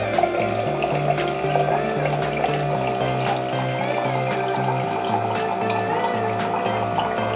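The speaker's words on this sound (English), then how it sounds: "That's a big glass of water. That's just as fast as the water cooler dispenser." A USB rechargeable water pump hums steadily while water streams into a large glass, a continuous motor whine layered over splashing fill with faint clicks.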